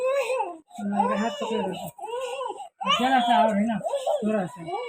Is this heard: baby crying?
yes